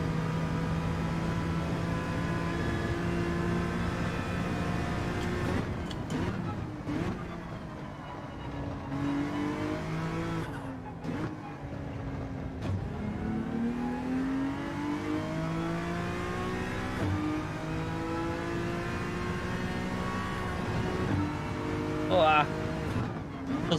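A race car engine in Gran Turismo 7 revs and drones through a race, its pitch climbing and dropping with gear shifts and corners. The engine sounds steady and moderately loud while someone talks over it.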